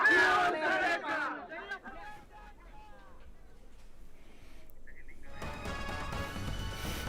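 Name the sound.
large crowd of Shiv Sena supporters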